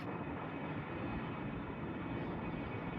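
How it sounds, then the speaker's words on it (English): A steady, distant engine drone of a helicopter passing overhead while scooping lake water for firefighting, a constant rumbling hum with no other sounds. "Helicopter keeps making passes at the lake and filling up."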